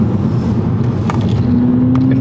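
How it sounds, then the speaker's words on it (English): Engine of a 2022 Volkswagen Polo GTI hums loudly and steadily from inside the car while driving, a constant close drone with a slight rise in pitch toward the end and no talking. "Engine makes quite a nice noise."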